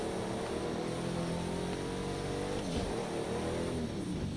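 A Pagani supercar in a racing video game roars at sustained high revs on a dirt track, a dense steady engine drone with shifting harmonic tones throughout.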